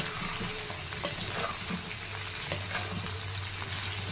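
Garlic and curry leaves fry in a pan of oil for an onion chutney, giving a steady, close sizzle that runs throughout with a few small pops and stirring clinks, with no voices.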